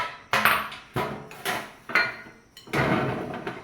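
A metal baking tray is handled in a home kitchen while spices for baked potatoes are mixed in, giving a series of close, loud clattering knocks and scrapes in irregular bursts, with no talking.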